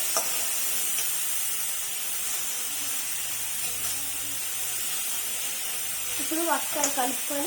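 Potato pieces are stirred into a pan of fried onions, giving a steady frying sizzle with soft stirring scrapes; a voice speaks briefly near the end.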